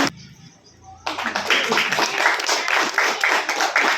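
An audience at the All Bengal Theatre Festival breaks into loud, dense applause after a near-silent second, a sustained wash of many hands clapping that continues to the end.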